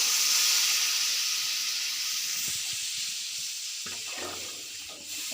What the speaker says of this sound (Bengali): তো আমি জল দিয়ে দেবো